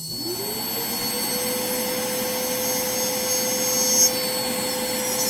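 A high-speed dental handpiece and burr trim a Hydrocast denture's concave surface, giving a steady, close, high-pitched whine that spins up at the start and holds with a constant grinding hiss.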